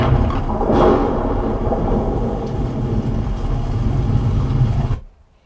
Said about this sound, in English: That thunder's powerful.